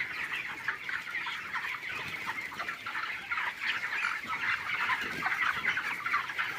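A flock of chickens at a poultry farm clucks and murmurs continuously while feeding from a feeder, a busy, layered chatter of many birds at moderate volume with no speech.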